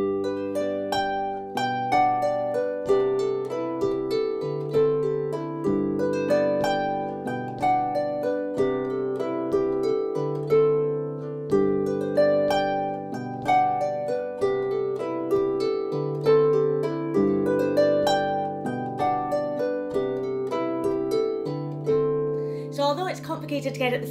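Harp plays a tune, one phrase repeated four times in a row; clear plucked melody over resonant bass notes, steady and close, with a brief rustle at the very end.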